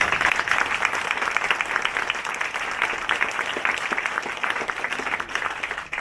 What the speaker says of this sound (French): j'aimerais qu'on les applaudisse.